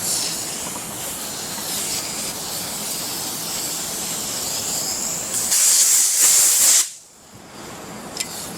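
An air hose hisses in steady bursts as it blows debris out of a tapped hole in a freeze-cracked 400 engine block. The hiss is close and loud, then a sharp blast cuts off abruptly into quieter shop ambience.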